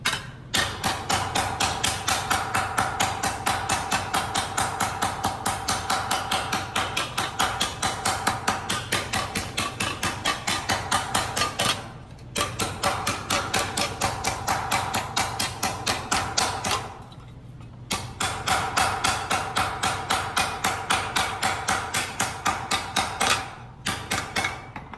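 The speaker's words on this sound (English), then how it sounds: "it's better to use a shaping hammer on the stump" Rapid, steady blows of a shaping hammer ring out against a sheet metal panel on a stump in long runs, broken by two short pauses, loud and close throughout.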